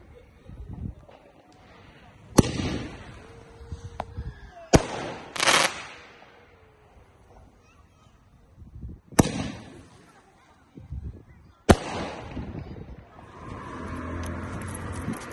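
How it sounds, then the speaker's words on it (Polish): Fireworks on Bonfire Night in the UK go off as four sharp, loud bangs spaced a few seconds apart, with some crackling in between, while people talk in the background. "No zaraz, będą jeszcze fajerwerki."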